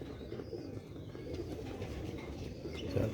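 Pigeons, red-bead-eyed birds kept by a hobbyist, cooing softly in a low, continuous murmur with faint rustling, no speech.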